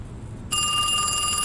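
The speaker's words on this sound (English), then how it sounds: "Ooh, phone call." A telephone in the MorningTide Motel video game starts ringing abruptly after a brief quiet moment, a loud electronic bell tone that holds steady to the end, with no talking.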